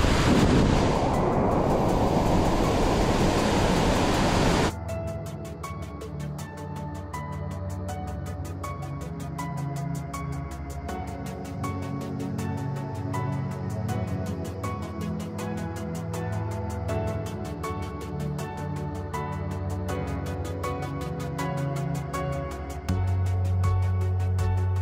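Nanemachi waterfall in the Sahyadri hills gives a loud, close, broadband roar of rushing water for about five seconds, then cuts to a music track that carries through to the end.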